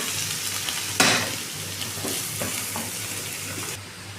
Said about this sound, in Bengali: এখন পেঁয়াজ দিতে, পেঁয়াজগুলো ভাজি করতে আছে ফ্রাইড রাইসের জন্য।